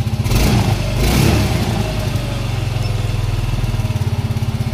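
A Yamaha M3 motorcycle engine after an ECU remap revs up twice in quick bursts close by, then settles into a steady, pulsing idle.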